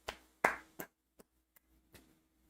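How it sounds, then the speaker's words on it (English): A few hand claps, the first ones sharp and fairly close, then thinning into softer, sparser taps, with no talking. "Sus sounding claps."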